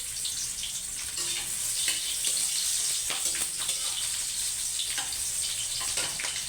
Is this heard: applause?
no